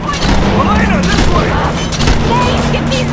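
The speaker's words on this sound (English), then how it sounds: "I was shooting Elena" Gunfire in the video game Uncharted 2: Among Thieves, a steady dense barrage of shots and impacts layered under continuous game noise with voices mixed in.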